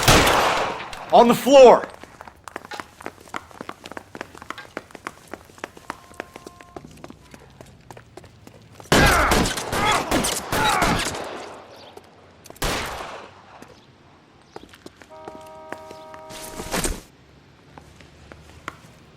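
Bursts of gunfire crackle through a shootout in the video game L.A. Noire, arriving in loud, separated volleys, with a character's voice and faint musical tones in the quieter gaps.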